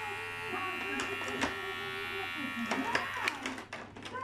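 A Powertec TR 6500 electric shaver runs with a steady, fairly quiet buzzing hum, broken by a few light clicks and handling knocks, with possible faint voice underneath.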